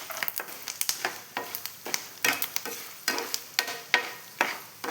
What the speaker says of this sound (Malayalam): ഇനി ഇതിനെയും ഞാൻ വറുത്ത് കോരിയിട്ട് എടുത്തു.